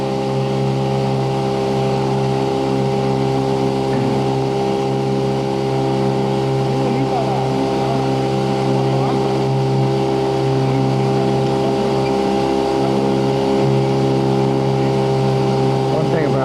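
A sailboat's engine drones steadily and loudly while motoring off Baja, a constant mid-pitched hum with faint voices under it.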